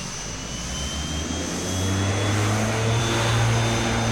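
Engines of an Aerosoft Twin Otter in the Prepar3D v5 flight simulator, a continuous turboprop drone with a whining tone that swells slightly louder partway through, with no talking.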